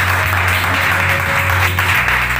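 A church congregation at a Pentecostal-style service claps loudly together in thanks to the Lord, a dense, steady burst of applause filling the whole clip with a faint hum beneath.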